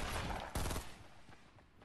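Gunshots in the video game Fortnite, a quick cluster of sharp shots with one louder crack in the middle, then fading, faint bursts over a quiet background.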